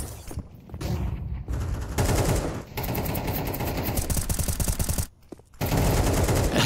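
AWP sniper shots fired on quick scopes during a Counter-Strike 2 match on the Mirage map, loud and busy, with rapid overlapping gunfire and two short lulls; no voices.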